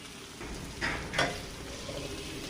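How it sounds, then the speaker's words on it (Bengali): Spices fry in a pan with onion and garlic for a fish curry, a low steady sizzle punctuated by two short, sharper stirring scrapes. "এবার আমি মশলাগুলো সব ভালো করে ভেজে নিয়ে"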